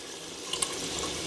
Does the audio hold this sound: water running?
yes